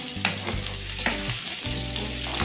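Cubes of chicken fry in a pan with a steady, close sizzle, punctuated by several scraping stirs as the pieces are moved around; no talking.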